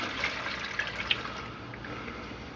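Half-and-half pre-mixed coolant pours from a two-quart jug into the reservoir of a 2003 Dodge Ram 1500 4.7L, a faint steady liquid trickle with small splashes, heard alone.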